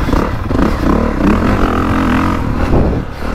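A motocross bike engine, Honda CRF450R or KTM 450SXF Factory Edition, drones loudly and steadily while riding, rising and falling slightly in pitch as the throttle changes, close and continuous.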